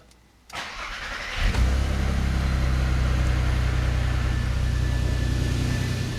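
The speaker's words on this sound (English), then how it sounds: "We filled the car back up with oil, started it up, and checked for leaks." A car engine cranks briefly and catches after an oil change and a drain plug thread repair, then settles into a steady, close idle with a low constant hum.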